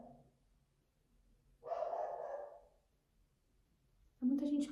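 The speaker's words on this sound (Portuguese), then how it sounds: "É uma latição que não tem fim." Dogs barking in a busy neighborhood where delivery motorcyclists come by, two separate bursts of barking, the first mid-distance and the second louder and closer, with quiet gaps between.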